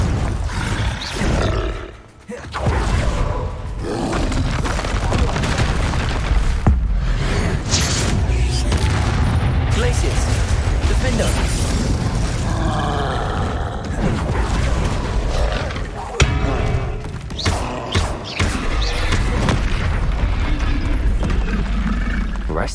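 Spell combat in Hogwarts Legacy, with Bombarda explosions mixed into a continuous, loud battle din of roars, creaks and mechanical clatter. A brief dip comes early, then dense noise runs steadily throughout with no speech.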